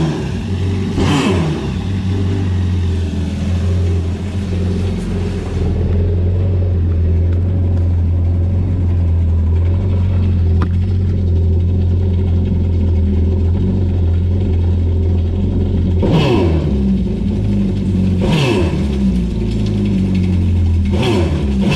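Jet ski engine running on a flushing hose, steady loud idle with several sharp revs as the throttle is blipped, close and alone with no talk.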